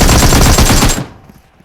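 Rapid automatic gunfire in PUBG Mobile rattles loudly for about a second in a tight burst of shots, then cuts off abruptly into a fading echo.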